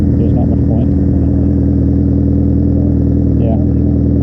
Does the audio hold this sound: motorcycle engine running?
yes